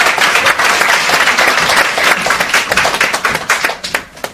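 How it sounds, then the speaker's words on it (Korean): Students at an exchange-student seminar give a close, lively round of applause, individual claps audible, then taper off near the end. "자, 박수로 선배들한테 박수."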